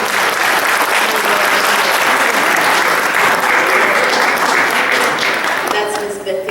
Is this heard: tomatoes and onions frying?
no